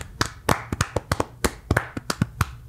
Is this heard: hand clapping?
yes